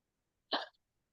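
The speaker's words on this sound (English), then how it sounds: "hiccups are fine too." A single short hiccup, abrupt and close, pops out of near silence and fades quickly.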